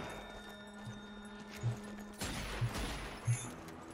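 Gunfire in the zombie shooter game Zombie Army 4: Dead War, a few sharp shots spaced apart over game ambience and a brief burst of louder action.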